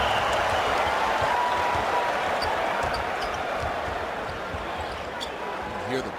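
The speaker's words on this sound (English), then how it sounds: "Hear the buzz in the crowd," A basketball arena crowd murmurs and buzzes continuously at moderate level during a Lakers–Bulls style matchup, broad and diffuse, with faint scattered shouts and an announcer speaking over it.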